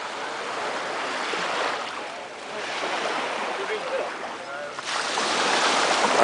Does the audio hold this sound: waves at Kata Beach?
yes